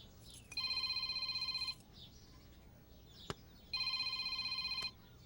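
A telephone rings in two long electronic trills with a pause between, fairly clear over a quiet room, with a single sharp click in the gap.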